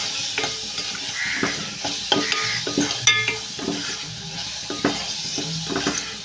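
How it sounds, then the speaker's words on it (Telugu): A spoonful of chili powder is stirred and fried in a pan before mutton keema is added, a spatula scraping in repeated strokes over a constant sizzle, close and clear with no talk. "ఒక స్పూన్ కారం అయితే వేస్తున్నాము వేసేసి కారం కూడా ఫ్రై అయ్యేటట్టు కలిపేసుకోవాలి"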